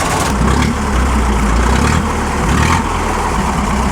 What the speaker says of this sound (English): he's showing off that engine sound.